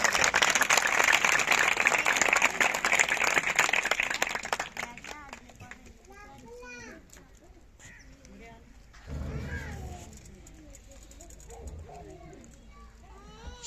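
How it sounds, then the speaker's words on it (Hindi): A congregation at a church meeting claps loudly together for about four seconds, then the applause fades and speech follows, with children's chatter and bird-like chirps in the background. "और यीशु के लिए जोरदार ताली दी जाए।"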